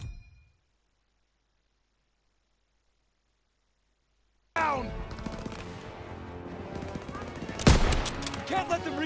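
Machine gun fire in the World War II video game Call of Duty WWII: after a few seconds of silence, dense rapid bursts of gunfire erupt with a louder blast near the end, and voices shout amid the shooting.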